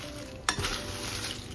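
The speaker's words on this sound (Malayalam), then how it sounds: "അതിനുശേഷം വറുത്ത് വെച്ച പപ്പടം ചേർത്ത് നന്നായി മിക്സ് ചെയ്യാം" Fried pappadam being stirred into pappadam thoran in a pan, a close continuous sizzle with a single sharp spoon scrape or clink against the pan partway through.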